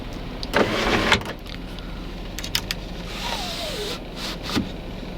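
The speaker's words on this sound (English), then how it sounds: "you also can do the old school, just pop up a little bit sunroof" A Nissan Maxima sunroof pops up with a short electric motor whir inside the car, between a few clicks and soft knocks, against a steady low cabin hum.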